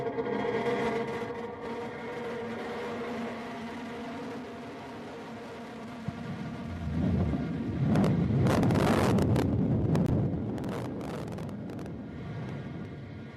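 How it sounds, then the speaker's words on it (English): A New Shepard rocket booster relighting its engine on descent: a steady wind-like roar that swells into a louder, rough rumble with crackling bursts midway, then holds and slowly eases, heard from a distance with no speech. "there's engine relight"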